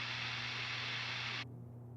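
Steady broadband hiss from a guitar rig run through a multi-band gate effect, loud and even with a faint low mains hum beneath, cut off abruptly near the end as the gate closes, leaving only quiet hum.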